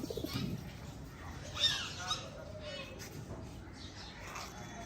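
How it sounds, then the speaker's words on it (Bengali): Pet pigeons of a home-bred breed coo softly in a loft, low murmuring calls running under steady background noise and occasional wing or body movement. "অনেক সুন্দর কবুতর, 10-12 কবুতর।"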